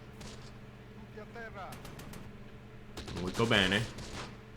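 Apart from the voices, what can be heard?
mortar fire in the video game Close Combat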